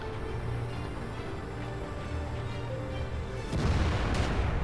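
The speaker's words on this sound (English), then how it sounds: "That was the SU-8 firing at the ground." An SU-8 self-propelled artillery gun firing in the tank battle game World of Tanks, heard as a steady roar of battlefield rumble followed by a single heavier, louder distant blast near the end.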